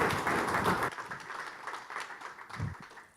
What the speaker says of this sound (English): please just give them a round of applause for helping us out today